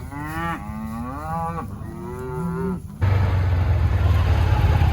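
Cattle moo in a couple of long, drawn-out calls close by, then a loud engine-like rumble and broadband noise take over for the final seconds.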